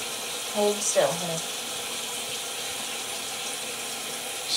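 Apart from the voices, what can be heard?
shower water running during a rinse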